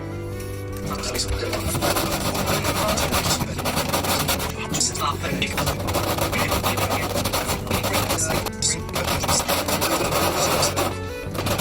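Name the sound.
sanding guitar bridge on sandpaper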